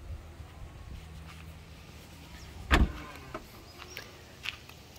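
Tesla Model 3 2021 SR+ powered boot closes after a button press: a soft motor whir ends in one short solid thump at the latch, with a faint click afterward.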